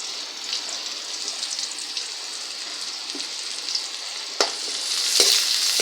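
Garlic and onion frying in hot oil for a dal tempering: a steady, close sizzle runs throughout, broken near the end by a few sharp clatters of a utensil against the pan.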